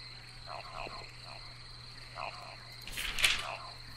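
Frogs croak in the spooky game Loveland during a fishing outing, a few short rasping calls in clusters over a steady insect-like hum, with a louder burst near the end.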